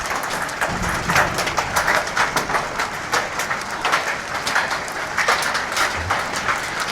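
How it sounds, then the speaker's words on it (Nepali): Hailstones fall heavily in a Nepali village, a dense and loud constant patter of hard impacts with brighter individual strikes standing out. "असिना त डन्नै पो पर्नु लाग्यो"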